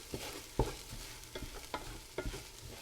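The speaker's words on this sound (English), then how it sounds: "let it toast a little bit. Don't let it burn, but you will see that the pot is getting dry." Cayenne pepper and turmeric toasting in a drying pot for chana masala, with several distinct scraping stir strokes over a faint, steady sizzle, close and fairly quiet.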